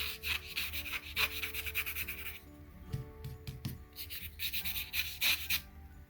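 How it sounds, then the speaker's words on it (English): A watercolor scrubber brush rubs back and forth over paper with steady, close scratchy strokes that pause briefly midway, then resume in rhythmic bursts. "I'm going to use my scrubber and just loosen up some of this"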